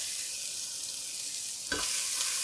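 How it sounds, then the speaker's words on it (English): Onions and carrots sautéing in hot olive oil in a pot, a steady close sizzle with a brief louder burst of frying near the end. "Add some olive oil. Add your onions and the carrots."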